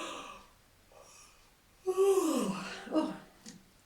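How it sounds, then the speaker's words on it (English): A single drawn-out human yawn rises into a loud open-mouthed exhale that falls in pitch and trails off into soft breathing, close and alone without talk. "Oh, that was a real yawn."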